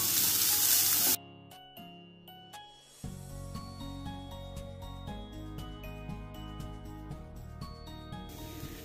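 Onion and grated coconut sizzle while sautéing in a pan, a steady crackling fry broken by sharp metallic clinks of a spoon against the pan.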